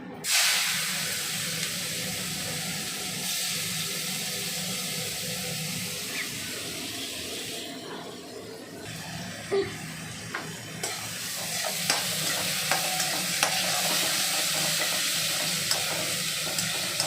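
Onions frying in hot oil that has turned red, in a pan for an egg curry, a steady close sizzle and hiss with occasional stirring clicks, briefly quieter midway, then continuing.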